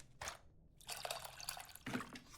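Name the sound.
mixing tamarind with water in the video game Venba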